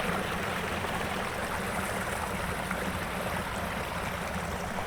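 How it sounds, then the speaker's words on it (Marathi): Continuous rushing of river water spilling at a single point from a bamboo fish-trap dam, a steady broadband roar close by with no speech. "पाणी पूर्ण ना एकाच ठिकाणी पडेल असं केलेलं आहे"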